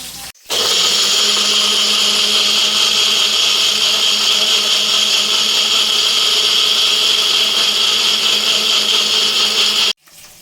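A mixer grinder grinds a paste of green chili, ginger and water, switching on abruptly and running as a loud, steady high-pitched whir for about nine seconds before cutting off.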